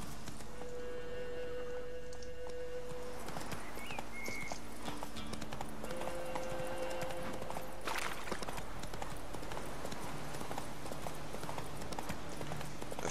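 Hoofbeats of Geralt's horse Roach trotting in The Witcher 3, a steady clip-clop running right through, with in-game music and ambience underneath.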